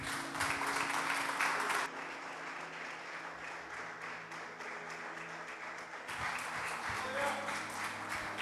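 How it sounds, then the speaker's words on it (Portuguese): A church congregation claps in praise, sustained dense applause filling the room, easing off partway through and then swelling loudly again. "As palmas louvam ao Senhor."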